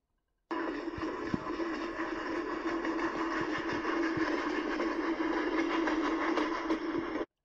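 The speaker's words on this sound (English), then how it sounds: "A black tender and a black steam engine. Freight train." A freight train pulled by a black steam engine and tender gives off a continuous, moderately loud mechanical rumble, steady for about seven seconds with faint rhythmic clicks underneath.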